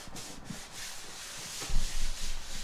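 Old t-shirt cloth rubbed over the body of a Norman B20 acoustic guitar, a steady close, soft swishing scrub that grows louder and more vigorous toward the end, with no talking.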